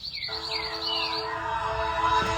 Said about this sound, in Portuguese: Os passarinhos, eles hoje estão louvando.